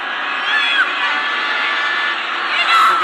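A stadium crowd at a women's international football championship final between Nepal and Myanmar cheers and shouts in a loud, sustained roar with high-pitched screams, filling the whole moment.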